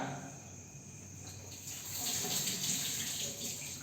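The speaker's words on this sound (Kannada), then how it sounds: "ಇವಾಗ ಇದು ಕ್ಲೀನಾಗಿ ವಾಶ್ ಮಾಡ್ಕೊಳ್ಳೋಣ." Spinach, fenugreek and dill greens being washed in running tap water, a steady splashing rush that swells louder midway, with no talking.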